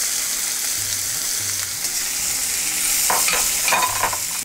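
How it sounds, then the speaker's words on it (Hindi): Three small, finely chopped onions sizzle steadily in hot oil with cumin seeds in a pan while being fried toward golden; a continuous close frying hiss with occasional stirring scrapes and no talk. "अब ये प्याज हम इसके गोल्डन होने तक इसको भुनेंगे"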